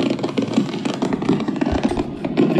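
A fireworks recording played back for training a dog, giving a dense, continuous rumble of bangs and crackles at steady loudness with no talk over it.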